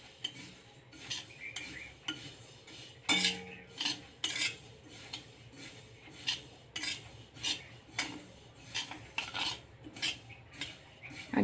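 Sesame seeds stirred and roasted in a pan for til vadi, with light scraping and clinking of a spoon against the metal in irregular bursts, fairly quiet and close, no talking.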